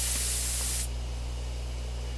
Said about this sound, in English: Take careful aim and spray.